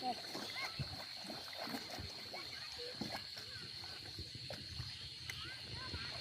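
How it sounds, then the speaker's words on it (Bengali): Water laps and splashes softly near a fishing boat on a dam lake at dusk, faint and continuous beneath voices and a steady high drone. "জলের ছলাৎ ছলাৎ শব্দ শুনতে পাওয়া যাচ্ছে।"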